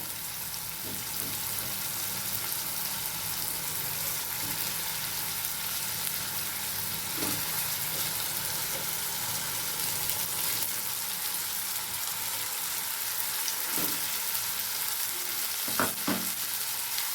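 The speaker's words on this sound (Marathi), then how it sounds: "बघा ही वांगी ह्याच्यामध्ये एक एक करून सोडून द्यायच्यात आपल्याला तेलात" Stuffed eggplants frying in hot oil, a continuous soft sizzle running throughout with a few occasional clinks and scrapes, close-up and without talk.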